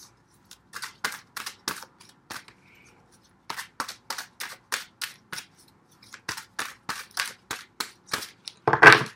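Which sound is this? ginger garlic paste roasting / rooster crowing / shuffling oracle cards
shuffling oracle cards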